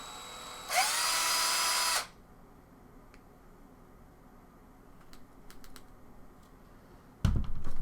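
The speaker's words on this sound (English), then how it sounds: "This drill just went right through that" A power drill bursts into a loud high whine for about a second while going through a Droid Turbo phone, followed by quiet scattered clicks and a final low thump.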